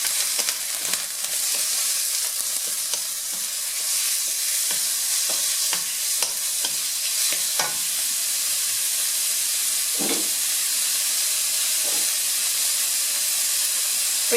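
Garlic and chopped onions frying in a hot pan for fried rice noodles give off a steady, loud sizzling hiss, broken by occasional scrapes and clicks of stirring.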